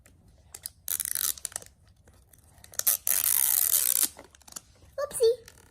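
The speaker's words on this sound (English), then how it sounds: "Oh, wait, let me use the scissors." Scissors snip and crunch through plastic packaging on an LOL Surprise doll box, in several short crinkling bursts with pauses between them and a brief voice near the end.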